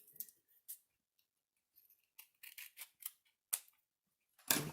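Scissors snipping excess white paper from the edge of a small card, a series of short, crisp cuts spaced irregularly in a quiet room, close and clear, ending with a louder thump.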